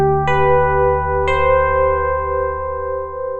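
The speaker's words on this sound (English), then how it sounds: "Just a nice electric piano sound." A soft electric piano synth patch on a Mini 7 plays sustained harmonic chords, with two fresh bell-like note attacks struck about a second apart that ring on steadily, no voices.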